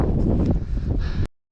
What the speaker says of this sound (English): As I'm getting higher and higher, the wind becoming stronger